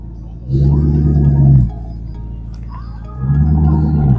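A powerful Lamborghini engine rumbles in two loud revving surges separated by a quieter idle, with faint chatter in the background, at a car gathering.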